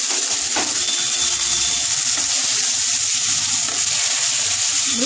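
Pointed gourd slices fry in hot oil in a pan, giving a steady, loud, close sizzle and crackle throughout with no talking.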